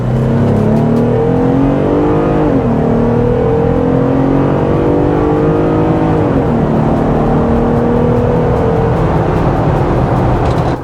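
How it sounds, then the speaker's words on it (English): A 2020 Jeep Gladiator on 37-inch tires with 4.10 gears accelerates hard from a roll of about 10 mph toward 60, its engine droning loudly and climbing in pitch through two gear shifts, with no talking. "we'll do a quick 0 to 60 test just so that you can watch the dash"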